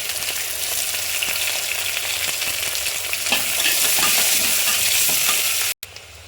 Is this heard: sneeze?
no